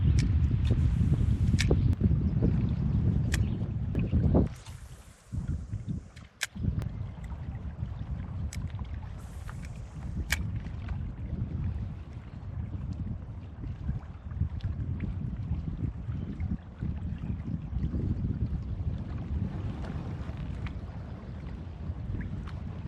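Wind buffeting while canoeing on a wilderness lake: heavy, gusty low rumble at the start, then a brief lull and a steadier ongoing breeze with scattered knocks and splashes.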